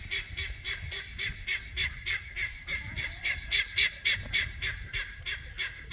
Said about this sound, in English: I hear the guinea.